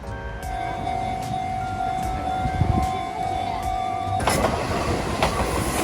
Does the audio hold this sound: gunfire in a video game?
no